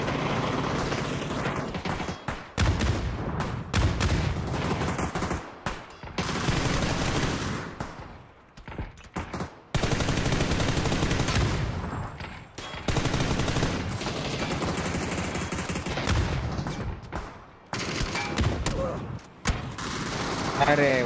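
Shotgun blasts and other weapon fire in a video game come in loud, heavy bursts separated by short silent gaps, with a voice speaking in between.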